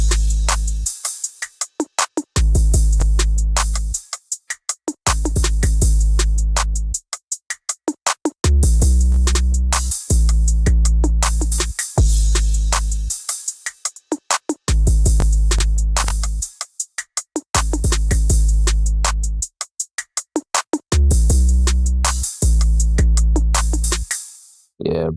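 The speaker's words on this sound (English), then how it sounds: "So the drums all together sound something like this." Dark Detroit-style beat drums with booming 808s play together, loud and crisp, with heavy bass hits, bright hi-hats and frequent hard stops and drops in a repeating pattern.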